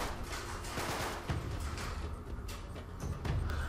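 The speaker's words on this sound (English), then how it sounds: "As well just take this down with shotgun shots." Shotgun blasts ring out in the video game Uncharted 3: Drake's Deception, a few heavy booms landing over a steady din of game combat noise and gunfire.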